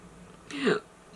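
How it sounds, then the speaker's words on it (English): A single short, throaty burp rises briefly out of a quiet room, then fades. "excuse me, I'm burping there."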